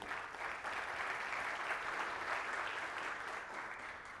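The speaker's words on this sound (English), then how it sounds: "Round of applause, guys, seriously." A conference audience breaks into sustained applause, an even, continuous roar of many hands clapping that holds steady throughout without speech.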